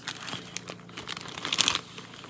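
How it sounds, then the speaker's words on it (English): Plastic snack packaging from a snack box crinkles and crackles as scissors cut it open, a few short rustling bursts with a sharper snipping crunch near the end. "Okay, I'm just gonna use my scissors."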